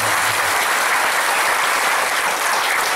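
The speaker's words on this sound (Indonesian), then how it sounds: "Tepuk tangan dulu buat saya." A crowd at an outdoor religious gathering in Incheon claps in steady, dense applause. The sound is loud, continuous and close, and it holds through the whole stretch without a break.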